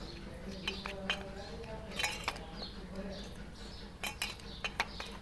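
A spoon mixing a homemade garam masala and chaat masala spice blend in a bowl, with light irregular clinks and taps against the dish, fairly quiet, while a voice talks.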